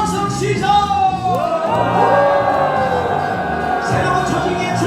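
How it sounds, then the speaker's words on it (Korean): Crowd at a national civic assembly rally in a Seoul hall lets out a loud, sustained rallying cheer, many voices whooping, shouting and yelling together close by for the full stretch, with musical tones rising through it. "여기서 일제시대 독립군부터 지금 빛의 혁명까지 함성을 한번 질러보겠습니다. 함성 시작!"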